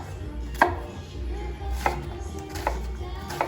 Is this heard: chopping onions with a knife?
yes